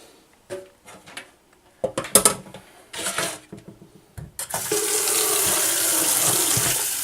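Water runs from a tap into a bucket while wine is being made. Several clanks and handling knocks come first, then a steady, loud gushing stream sets in and holds for the last few seconds.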